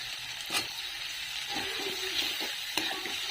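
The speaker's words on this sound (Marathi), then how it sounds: "बटाटा पण आपल्याला त्यातच परतायचा" Potatoes sautéing with garam masala and whole spices in a pan for masala rice, giving a steady close sizzle with a few louder stirring scrapes and no voices.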